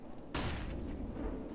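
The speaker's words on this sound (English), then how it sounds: "Deploying flashbang." Flashbang grenade going off in the video game Counter-Strike, a sudden blast followed by a sustained ringing wash over low game background noise, no speech.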